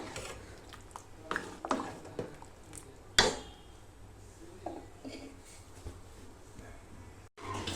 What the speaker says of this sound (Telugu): ఇవన్నీ బాగా కలుపుకోవాలి ఇలాగా.